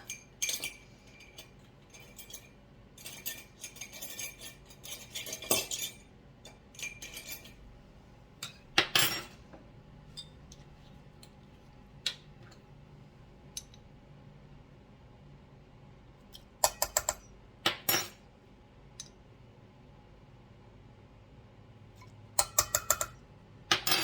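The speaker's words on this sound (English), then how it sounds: "And then we're just going to mix that." Egg and vanilla being mixed into sugar cookie dough in a bowl, heard as faint, irregular clinks and scrapes of a utensil against the bowl, with occasional sharper knocks and quiet stretches in between.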